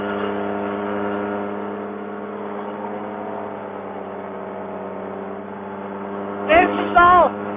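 A paramotor trike engine runs at full throttle for launch with a loud, steady droning roar, and a voice breaks in briefly near the end.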